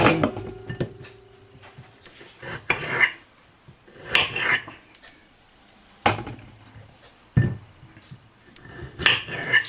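Cut potato wedge pieces drop into a bowl in several separate hard clattering knocks, spaced apart with quiet gaps between them and no voices.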